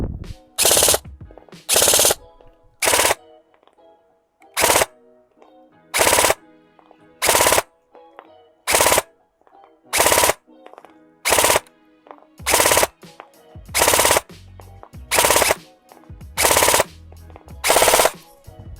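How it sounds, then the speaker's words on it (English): A Specna Arms Edge 2.0 SA-H21 airsoft rifle fires loud, close full-auto bursts, about fourteen short rattling strings in a steady stop-start rhythm over about nineteen seconds, with quiet gaps between them. "And now fun mode, full send, full auto."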